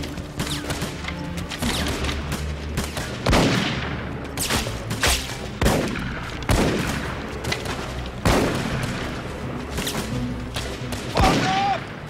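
Rifle volleys from skirmishers in a Civil War battle scene at Andersonville, sharp loud cracks and booms repeating every second or two amid scattered distant shots and faint shouting.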